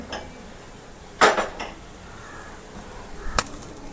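A clay cooking pot set down on a stove gives one sharp knock, then a lighter clink a couple of seconds later, both close against a quiet room.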